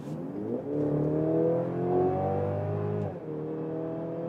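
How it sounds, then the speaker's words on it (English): A Mercedes GLC Coupe 300 in sport mode accelerates on the German Autobahn, its engine droning and rising in pitch through the gears with one clear shift dip, heard steadily from inside the cabin with no talk. "let's start here in the sport mode, GL3 300, and let's accelerate it out."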